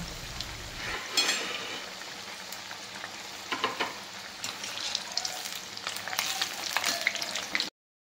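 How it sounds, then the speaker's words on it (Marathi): Shankarpali sweets deep-fry in hot oil, a dense continuous sizzle with bursts of bubbling and crackle as pieces are stirred, close and fairly loud, cutting off abruptly at the end. "आता आपले शंकरपाळे तळून झाले"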